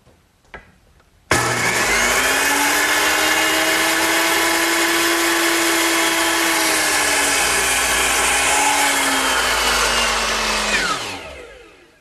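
A power saw cuts a wood table part to length in a woodworking shop, spinning up sharply and holding a loud, steady whine for about ten seconds before winding down.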